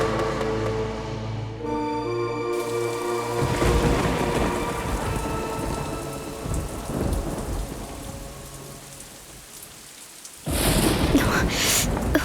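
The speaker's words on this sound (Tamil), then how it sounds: "இப்போ யார் இந்த மழையை கேட்டா?" Heavy rain with rolling thunder, a steady downpour under low rumbles, ending in a sudden loud crack, with background music fading out early.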